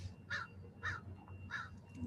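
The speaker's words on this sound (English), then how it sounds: "people are happy to be hearing the sounds of seagulls" Three evenly spaced, harsh bird calls ring out over faint low background noise on a foggy shore, sounding somewhat distant.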